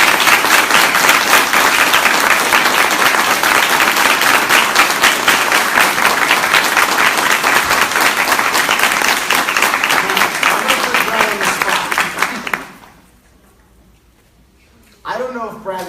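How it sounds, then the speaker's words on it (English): A large audience applauds a Student of the Year at a school awards ceremony, with loud sustained clapping for about twelve seconds that stops abruptly, followed by brief quiet and then a voice. "join me with a big round of applause in congratulating our Student of the Year, Mr. Brad Culbertson."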